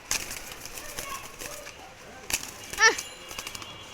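A released female pigeon, with soft rustling wing flaps and brief fluttering bursts close by, mixed with handling noises and a short bird call near the end.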